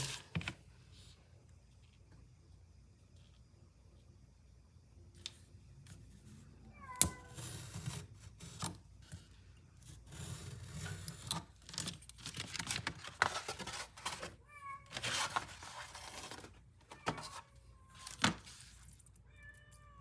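A cat meows several times, short plaintive cries scattered among tapping and rustling from crafting work with paper and a ruler, the animal close by and the room otherwise quiet.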